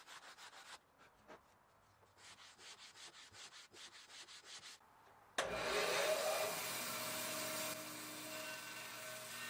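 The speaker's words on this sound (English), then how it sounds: "finalizing that with the leveling beam" Rhythmic back-and-forth rasping comes from a leveling beam sanding a wooden guitar cavity cover, with close, even strokes. A loud, steady whooshing machine noise then cuts in and drowns them out.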